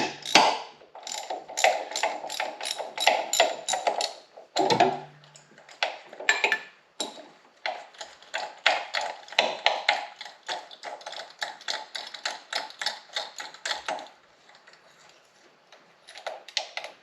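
A ratchet wrench loosening bolts on a Subaru EJ25 engine gives rapid, close clicking in quick runs of ticks, briefly paused and then resumed, moderately loud with no talking.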